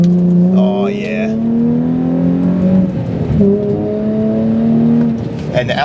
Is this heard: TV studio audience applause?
no